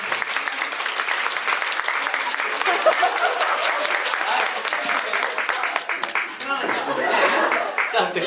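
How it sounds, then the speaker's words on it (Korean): Audience applause at the final-performance curtain call and stage greeting of the musical Mia Famiglia, a full, sustained clapping crowd with scattered chuckles and voices talking over it. "박수 한번 부탁드릴게요."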